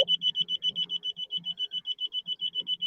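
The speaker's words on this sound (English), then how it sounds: "Sorry, that's a beep." A smoke alarm beeps in rapid, evenly spaced electronic pulses, about six per second, shrill and steady in the background at a party with faint murmurs beneath.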